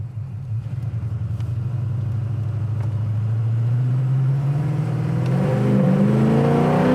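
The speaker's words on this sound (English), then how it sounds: "Idle's nice at a stop sign." A 1972 Chevelle Malibu engine rumbles at a steady low idle while stopped at a stop sign, the tone lifting slightly toward the end, heard from inside the car.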